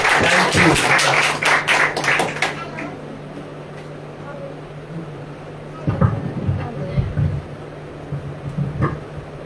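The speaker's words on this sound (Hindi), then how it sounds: "ताली बजाएं प्रभु के धन्यवाद दीजिए" Congregation clapping hands in unison during a church Sunday worship service, a loud rapid burst of many claps for about two and a half seconds, then fading into quieter room sounds with scattered taps and faint voices.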